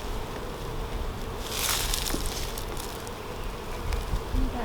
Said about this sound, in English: There's still a considerable amount of bees down here in the bottom box that I can see.